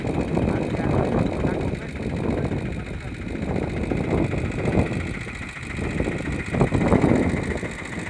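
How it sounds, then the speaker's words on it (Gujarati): A Saneda tractor engine running a pesticide spraying machine on a village farm, chugging and rattling steadily up close while someone talks over it. "સનેડા ટ્રેક્ટરનું એન્જિન છે ભાઈ"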